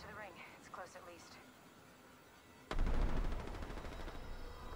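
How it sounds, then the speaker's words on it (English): Gunfire in Apex Legends erupts suddenly after a stretch of talking, a loud rapid burst of shots followed by continued firing and scattered echoing reports. "they're all shooting in front of us"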